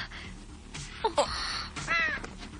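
Crow giving a few harsh caws around the middle and again near the end, fairly close, over a faint background with no talk.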